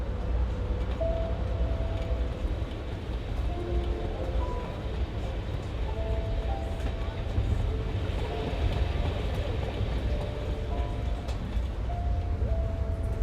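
Interior of a moving passenger train, a steady low rumble of wheels and carriage with faint rattling, continuous throughout and moderately loud.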